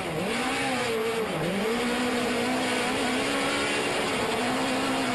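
A loud engine drones continuously, its pitch dipping briefly then holding steady, heard from on board a Pro Light off-road race truck during a Las Vegas race, with constant rumble and road noise.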